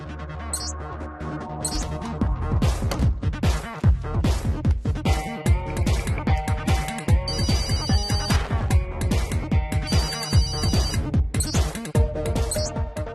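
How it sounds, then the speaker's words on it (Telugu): A telephone rings repeatedly in a comedy film scene, its bell-like tones sounding over a busy, loud mix of music and effects. "ఈడొకడు ఫోన్ రింగ్ అవుతుంటే ఎత్తడేంటి?"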